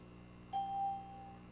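Single soft electronic bell tone from trading software signaling rising volume on a large-cap stock, a brief sustained chime ringing out alone over a quiet background hum.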